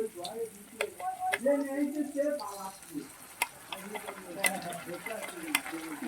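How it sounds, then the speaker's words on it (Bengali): Onion, tomato and ginger garlic paste frying in a pan while being stirred, a soft sizzle with several sharp utensil clicks against the pan, heard under a voice talking. "ভালো করে একটুখানি পেঁয়াজ টমেটো ভাজলো এবার আদা রসুন পেস্ট দিয়ে দিচ্ছি"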